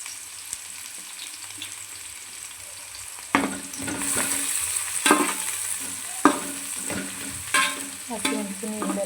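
Onion and green chili stir-fried together in a pan for cabbage manchurian: a steady sizzle broken by repeated loud scraping and clattering stirs, with no voices.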